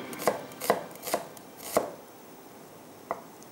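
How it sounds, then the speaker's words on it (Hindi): A knife chops peeled ridge gourd into chunks on a board, giving four crisp, evenly spaced cuts up close, then a pause and one lighter final chop. "उसके बाद तुरई के हमें चंक्स करने हैं"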